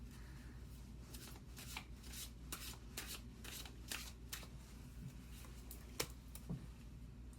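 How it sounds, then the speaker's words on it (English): Tarot cards being shuffled by hand, a quiet, close series of crisp riffling bursts and soft slaps in irregular rhythm against low background hum. "I need 3 cards from the Twin Flame messages"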